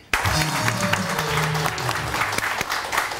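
Studio audience at a Pakistani morning TV show clapping loudly for a guest, a steady burst of applause starting abruptly, with a voice faintly beneath.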